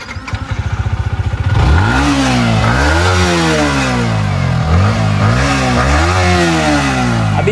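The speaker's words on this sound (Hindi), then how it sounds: "यमा की बाइक है तो फायरिंग भी सुन लेते हैं एक बार" A Yamaha MT-15 BS6 motorcycle engine idles with a rapid putter, then revs up repeatedly, its pitch climbing and falling in several loud, close throttle bursts.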